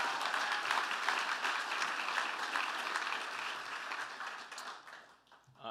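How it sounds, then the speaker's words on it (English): Applause from the crowd at a university athletics hall of fame ceremony, a broad sustained wash of clapping that holds steady, then thins and fades near the end. "can we get another round of applause for Candace?"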